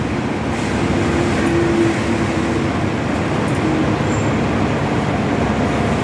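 Riding at the rear of a Hong Kong tram: a constant rumbling rattle of the tram rolling along the street, with faint traffic around it and no talking.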